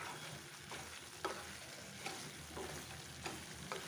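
Chicken fries in mustard oil, giving a steady, fairly quiet sizzle, while a spoon stirs it with periodic scraping strokes about every second, close and without talk.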